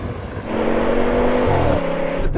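A BMW M5 V10, an AMG E55 and an Audi RS6 launch together in a drag race, engines rising from idle into a loud, sustained roar with a gear change partway through, heard from nearby.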